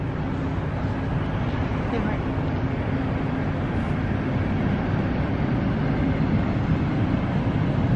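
Steady loud low rumble and rattle of a train rolling past close by, continuous with no breaks.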